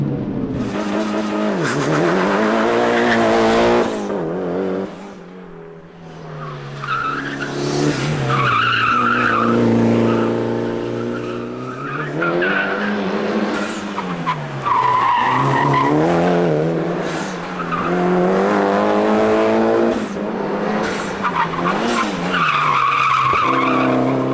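A Mitsubishi Evo driven hard through a wide corner, its engine roaring and revving loudly with tire squeal and skidding, close and continuous, dipping briefly before surging again, no talk.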